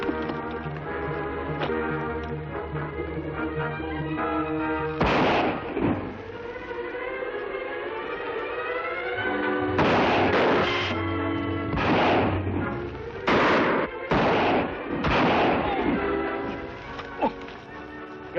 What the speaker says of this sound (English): I'll fire to keep them back.